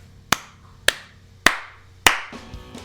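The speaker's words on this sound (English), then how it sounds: "As you hear kind of a clap." Four sharp hand claps ring out at an even pace, each one crisp and close with a short echoing tail.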